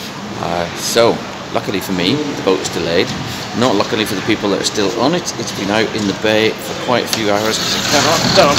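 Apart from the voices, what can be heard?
gale-force wind blowing at Holyhead ferry port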